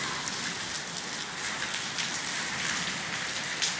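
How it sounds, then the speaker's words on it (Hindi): Heavy rain pours down steadily under dark clouds in hot weather, a dense continuous hiss of drops with no voices. "काफ़ी तेज़ बारिश लगी हुई है"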